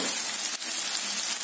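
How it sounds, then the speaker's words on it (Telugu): Onions and tomatoes frying in a pan for prawn curry, a steady loud sizzle with a hissing crackle and no talk. "ఉల్లిపాయలు బాగా వేగాయి."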